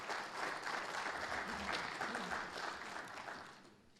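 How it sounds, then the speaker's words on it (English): A conference audience at a business and economic outlook event gives a round of applause, a dense, moderately loud wash of clapping that holds steady and then fades near the end. "let's give Andrea and Don just a round of applause"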